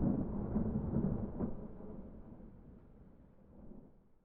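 Thunder from lightning rolls as a deep, muffled rumble that swells early, then fades and dies away with a slight late resurgence, heard alone.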